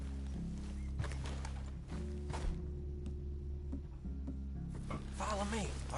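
Horses walk in Red Dead Redemption 2, their hooves clip-clopping in soft, uneven steps under a droning musical score, with a character's voice speaking over them near the end.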